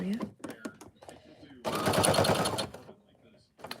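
A sewing machine makes a short, fast burst of base stitching, a rapid mechanical rattle lasting about a second amid quiet handling clicks and scattered speech.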